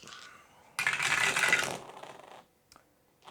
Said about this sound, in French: on va s'occuper de lancer les dés